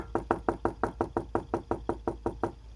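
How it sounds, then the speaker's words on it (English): A sound effect of knocking in a read-aloud children's story, with about fourteen evenly spaced, hollow knocks in a steady rhythm, close and clear, with no voice over them. "And then he heard the knocking sound again."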